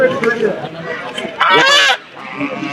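Ducks honk loudly up close at a village market, a brief harsh burst of quacking calls, with voices talking around them.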